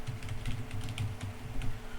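Rapid keystrokes on a computer keyboard entering a bash command to run a benchmark shell script, close and crisp clicks in an irregular quick rhythm.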